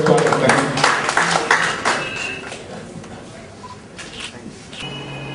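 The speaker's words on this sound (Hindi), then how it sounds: "उनके सम्मान में तालियों से स्वागत करें" Applause at a ceremony honouring coronavirus frontline workers greets a traffic police DSP: a burst of close, dense clapping from an indoor audience that thins and fades over a few seconds amid room noise.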